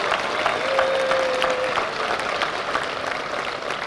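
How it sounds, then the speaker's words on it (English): Audience applause for campus physical plant workers at a university honors program, steady clapping from a crowd filling the room, with a faint tone running briefly underneath. "Please give them a round of applause as well"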